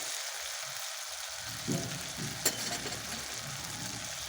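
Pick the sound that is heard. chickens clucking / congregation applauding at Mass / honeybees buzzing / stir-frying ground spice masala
stir-frying ground spice masala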